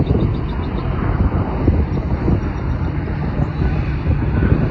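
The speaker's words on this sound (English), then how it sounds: "You also got someone landing. 737-800." Boeing 737-800 with split scimitar winglets landing, a steady rushing aircraft roar mixed with wind buffeting on the microphone, fairly loud and unbroken.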